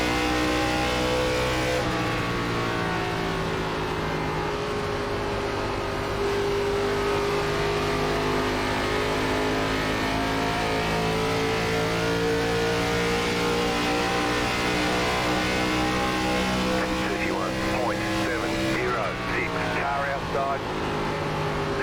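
A NASCAR ARCA Series race car in iRacing at Nashville Superspeedway holds a loud, steady engine drone with rising harmonic sweeps as the throttle opens, continuous throughout, with talk over it.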